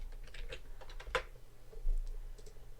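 Close, light typing on a computer keyboard during Houdini software work, a run of quick keystrokes with one sharper tap, over quiet room hum.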